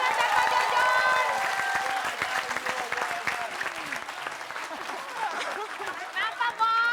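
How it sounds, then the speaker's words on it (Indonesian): A studio audience applauds for comedians Bang Mali, Pak Bola and Pak Jojon on a comedy show, sustained dense clapping with crowd noise and voices mixed in, tapering slightly toward the end. "Tepuk tangan dulu dong buat Bang Mali, Pak Bola, dan Pak Jojon."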